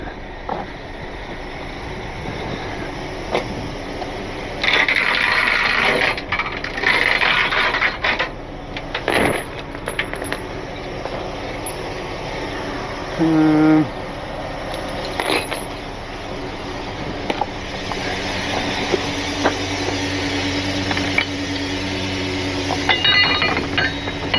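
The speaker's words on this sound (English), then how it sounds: "throw some safety chains on it and it's good to go" Safety chains rattle and clank as they are hooked onto a tow hitch on a mountain road during the recovery of a broken-down wildland firefighting vehicle, giving several metallic clinks and scrapes over steady outdoor background noise.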